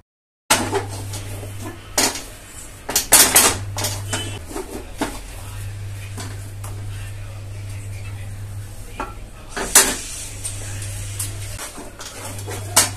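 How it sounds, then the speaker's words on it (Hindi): A thickening mixture is stirred in a pot over low heat, with repeated metal spoon scrapes and clanks against the pot over a steady background hum and a faint dog sound. "तो इसको चलाने में काफ़ी मेहनत लगती है और आँच भी कम कर दें साथ के साथ और इसको चलाते रहें।"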